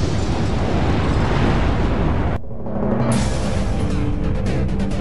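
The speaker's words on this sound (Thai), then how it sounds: "สิบแปดพฤษภาคม 1980เมาส์เซนต์เฮเลนได้ระเบิดขึ้นในแบบที่ไม่มีใครเคยเห็นมาก่อน" The 1980 eruption of Mount St. Helens: a loud, dense roaring blast that cuts off abruptly, then resumes as a rumbling, crackling roar, with no voices.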